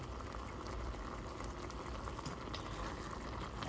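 A pot of green chili stew with potatoes, dried beef and a little flour thickening into gravy, simmering with a soft continuous bubbling and popping, faint and steady with no voices.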